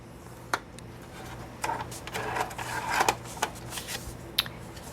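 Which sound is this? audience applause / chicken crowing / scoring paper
scoring paper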